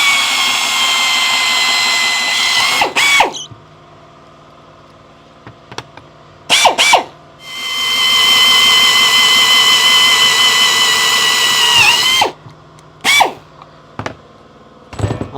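A loud power drill whirs steadily for several seconds, drilling through upholstery with a socket slid over the bit, pauses with a few clunks and handling noises, then spins up again in a long continuous run.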